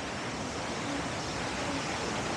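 Waterfall pouring as a constant, even hiss of falling water, heard from a moderate distance, with no breaks or other sounds.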